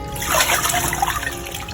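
Water sloshes and trickles as fresh cilantro is swished and rinsed in a bowl, a steady close-up splashing and dribbling with no talking.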